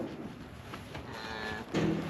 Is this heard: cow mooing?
yes